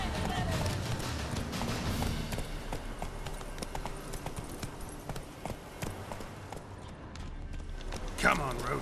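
Hooves clip-clop in a steady walking rhythm as a horse moves along in The Witcher 3, close and clear, under game voices and ambient sound.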